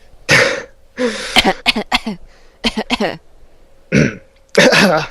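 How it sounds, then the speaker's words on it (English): A few short throaty coughs and throat-clearing bursts, close and fairly loud, separated by brief pauses. "Are you gonna start doing the cough thing?"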